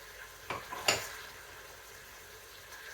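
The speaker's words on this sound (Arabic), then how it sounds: "خلي هاد العناصر تشحر ليا مزيان حتى تقلى مزيان" Vegetables and spices frying in a pot for a vegetable and meat soup, a low steady sizzle with two brief sharp scrapes or clinks of stirring near the start.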